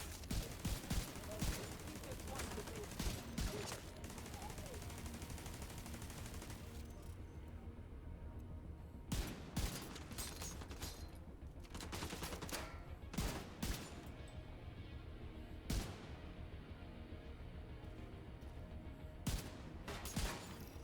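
Turret gunfire in The Division 2 on Xbox Series X, a loud sustained stream of shots for several seconds, then scattered single sharp bangs at intervals under faint game ambience.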